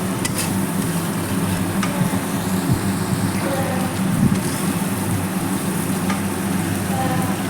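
Pre-fried fish pieces dropped into cooked-down masala in a pan, a loud, close, continuous sizzle with stirring scrapes and a brief burst as the fish goes in, no voices.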